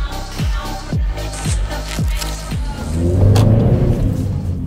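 Ford Focus 1.6 with a tuned exhaust revving close by: five quick throttle blips climb and drop in a regular rhythm, then the engine settles into a loud, deep, steady rumble.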